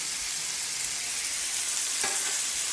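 Ground beef browns in a pan for a squash burrito filling, giving a steady, even sizzle of frying fat with one brief scrape near the end, close and loud, with no voices.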